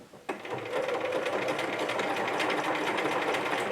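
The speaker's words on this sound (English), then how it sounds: "I'm just going to sew it with a zigzag stitch." Sewing machine running a zigzag stitch on fabric for a small wallet, a quiet steady rapid mechanical whirr with a fast even needle rhythm, starting abruptly and continuing alone.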